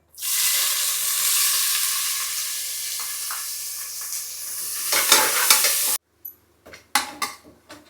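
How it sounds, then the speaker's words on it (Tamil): Onions frying in oil with whole spices for coconut milk rice, a loud continuous sizzle that swells and then cuts off, followed by a few sharp clinks and stirring scrapes of the pan. "இந்த ஸ்டேஜில் பெரிய வெங்காயம் ஆட் பண்ணிக்கிறோம்"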